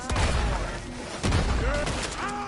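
Gunfire in the Red Dead Redemption 2 video game, two loud sharp shots amid a busy scene, with shouting voices over the noise.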